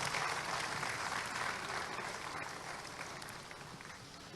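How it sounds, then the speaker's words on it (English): Applause from a conference audience at an opening ceremony, a dense, steady wash of clapping from many hands that fades slightly toward the end, with no talk over it. "Please let's give our president a bigger round of applause"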